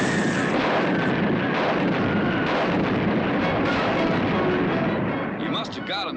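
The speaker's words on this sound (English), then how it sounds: "I'll get them with the cannon." Cannon fire in a radio drama: heavy, rumbling booms roll on continuously, loud and dense, easing off near the end, where a voice starts up under the fading blast.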